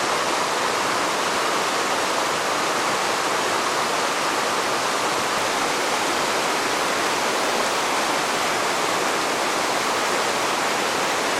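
A river along a hiking trail where a bridge was washed out rushes steadily and loudly, a continuous broadband roar of flowing water with no voices over it.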